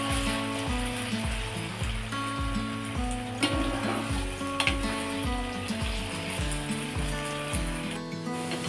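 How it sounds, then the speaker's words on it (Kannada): Vegetables fry in a pan for veg biryani, with a steady sizzle and crackle that runs throughout, while looping background music plays fairly loudly on top of it. "ಇದು ಫ್ರೈ ಆಗ್ತಿದೆ. ಇವಾಗ ಕಂದು ಬಣ್ಣ ಬರೋವರೆಗೂ ಇದನ್ನು ನಾವು ಫ್ರೈ ಮಾಡ್ಕೋಬೇಕಾಗುತ್ತೆ"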